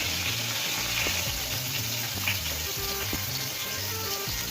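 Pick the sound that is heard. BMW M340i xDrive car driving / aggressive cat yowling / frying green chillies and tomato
frying green chillies and tomato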